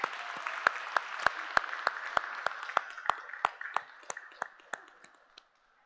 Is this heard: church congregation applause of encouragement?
yes